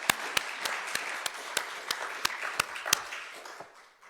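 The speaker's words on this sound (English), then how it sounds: "Can we give her a round of applause?" An audience applauds a guest speaker at a Sunday lesson gathering, a brief round of clapping with sharp individual claps standing out, tapering off near the end.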